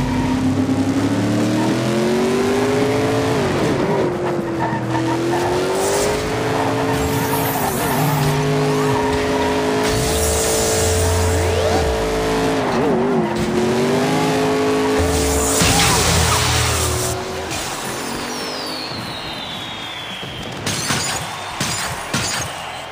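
Toy Hot Wheels cars, including a Batmobile and Bone Shaker, race around a plastic track, heard as a sustained loud engine roar with tire-squeal and crash effects that fade toward the end, with no talk over it.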